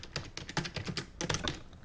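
Rapid typing on a computer keyboard while setting up a blog page, a dense run of close key clicks with a short pause midway, continuing steadily alone.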